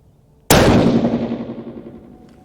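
A 6.5 PRC rifle loaded with IMR4831 powder fires a single loud, sharp shot outdoors, followed by a long rumbling echo that fades over about two seconds.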